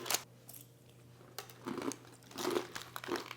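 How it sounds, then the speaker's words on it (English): Crisp, loud crunches from a few close bites, coming in short bursts with quiet gaps between them. "It's a heck of a crunch on there."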